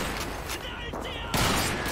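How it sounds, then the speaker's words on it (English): Gunfire from the video game Call of Duty 2 crackles as a dense burst of shots, heavy and loud near the end, while someone talks over the first part. "I don't understand why they're shooting from behind me."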